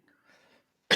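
A single short, sharp cough breaks out at the very end, loud and close, after a faint murmur of low background voice.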